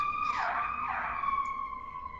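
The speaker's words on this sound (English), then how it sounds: "Sorry about the sirens." Emergency vehicle sirens wail outside a cabin where a head-to-head Pac-Man arcade game is being built, a steady rising and falling tone heard at moderate distance with no talk.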